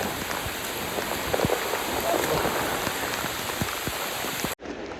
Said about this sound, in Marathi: खूप प्रचंड पाऊस चालू झालेला आहे